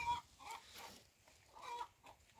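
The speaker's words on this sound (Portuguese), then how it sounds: "Aqui só tem uma galinha querendo chocar." A brooding hen on a farm gives soft, low clucks in a few scattered bursts, fairly close but quiet, with no talk over it.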